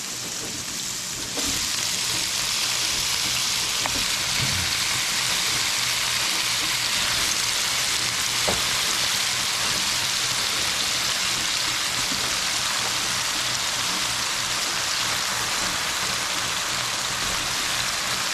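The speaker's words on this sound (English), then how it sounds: "we're gonna add our eggplant along with the potato" Eggplant and potato fry in a pan with shrimp, giving a steady, loud sizzle that hisses on without a break, with no voices over it.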